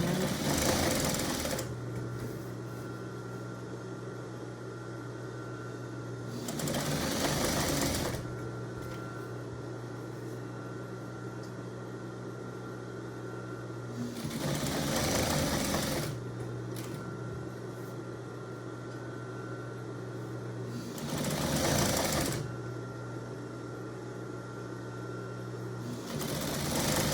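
Sewing machine top-stitching straps onto a homemade no-tie man's apron, running in a steady hum with four short louder bursts spaced evenly through it, heard close with no speech.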